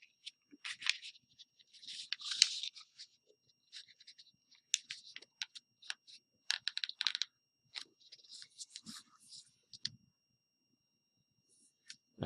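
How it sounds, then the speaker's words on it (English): Sheets of paper being creased and folded by hand into equilateral triangles, giving a string of soft, close crinkles, rustles and sharp creasing snaps spread in irregular bursts across the span with brief quiet gaps between them. "Then it's a matter of folding through this point and that point to get that last edge."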